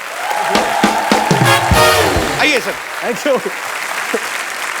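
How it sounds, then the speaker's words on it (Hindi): A studio audience on The Kapil Sharma Show applauds loudly as a guest is welcomed onto the stage, the steady clapping running the whole time beneath a host's speech and overlapping talk. "जोरदार तालियां यार।"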